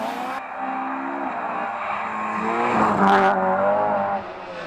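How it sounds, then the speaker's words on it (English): A howling rear-wheel-drive Toyota Starlet rally car drifts on an Ulster Rally stage in the British Rally Championship, its engine screaming loud and close while the tyres squeal as it slides. "He drifted and wrestled his howling rear-wheel drive Toyota Starlet to a fantastic second place"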